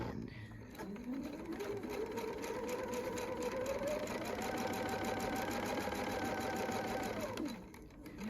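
A sewing machine stitches a paper-pieced quilt block, its motor whirring up from a start just before one second into a steady, loud, continuous run, then slowing and stopping near seven and a half seconds.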